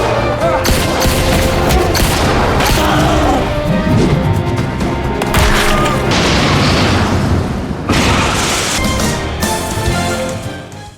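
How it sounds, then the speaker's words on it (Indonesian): Loud gunfight in a dramatic action scene, with dense bursts of gunfire, booms and crashes layered over tense music throughout, fading slightly toward the end; a voice is heard briefly. "내가 이 총을 쏘면"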